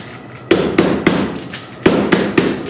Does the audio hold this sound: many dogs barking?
no